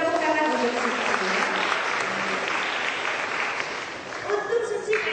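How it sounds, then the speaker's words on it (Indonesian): Applause rises from a hall of child representatives gathered to meet a deputy governor, a steady, moderately loud patter of many hands that continues for several seconds, with faint voices near the end. "Tepuk tangan untuk Suci."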